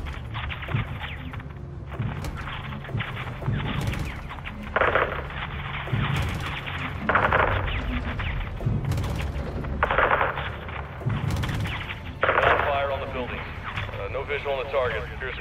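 Heavy gunfire in a Modern Warfare 2 campaign battle at a greenhouse, bursts of automatic fire and booming impacts recurring throughout, loud and close, mixed with radio chatter and voices talking over the shooting.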